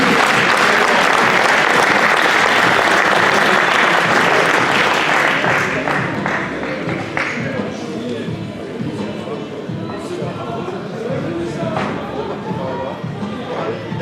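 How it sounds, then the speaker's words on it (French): Audience applause at a graduation ceremony for vocational apprentices, a dense sustained clapping from a crowd that is loudest at first and then thins slightly, with footsteps and low murmuring mixed in. "Et on peut les applaudir."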